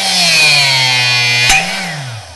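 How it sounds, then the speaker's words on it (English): A Benner Nawman DC-25X rebar cutter shears through number 8, one-inch diameter steel bar: a loud, steady motor drone with a sharp snap about midway as the bar breaks, then the motor pitch drops and winds down. "You're cutting a lot stronger piece of steel."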